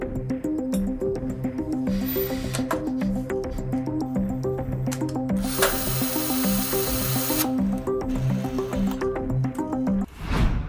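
A power tool programmed to 100 newton meters whirs and pulses rhythmically up close while tightening a bolt in a lab, with hissing bursts partway through, ending in a sudden change as it stops.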